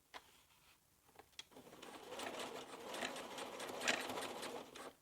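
A sewing machine top stitching dungarees runs in a steady close whirring stretch after a few quiet opening clicks, with no talking.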